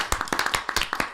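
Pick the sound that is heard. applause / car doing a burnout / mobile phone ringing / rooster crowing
applause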